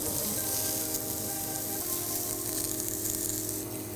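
Zucchini slices sizzle steadily in a frying pan, a constant, close crackling hiss that keeps going throughout with no pauses.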